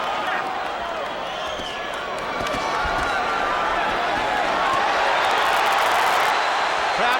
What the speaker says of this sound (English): Crowd coming alive as Cotto connected with a couple of left hands.